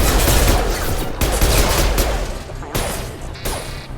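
Gunfire from a firefight in the video game Mass Effect 2, a dense continuous barrage of rapid shots with crashing impacts, loud and close, with no talk over it.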